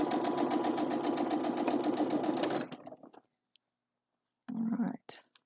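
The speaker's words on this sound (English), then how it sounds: "get sewing again." A home sewing machine stitching steadily and loudly for nearly three seconds, then stopping, followed by a short second burst of stitching and a few faint clicks.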